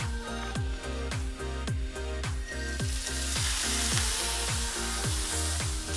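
Ribeye steak searing in avocado oil in a hot cast iron pan, a loud continuous crackling sizzle close up, with a regular train of low repeating thumps underneath, no voices.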